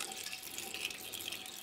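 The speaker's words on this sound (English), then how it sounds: "But you can see the water as it runs in right there." Water pours steadily through a gravity-feed tube into a 55-gallon drum used for outdoor water collection, a continuous, even trickling splash heard close and alone.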